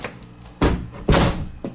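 A door being tried but not opening in an empty apartment unit: two loud, close thuds about half a second apart, then a softer third knock, with a faint rattling tail after each.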